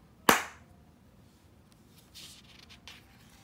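A single sharp handclap rings out near and loud at the start, then fades into quiet rustling.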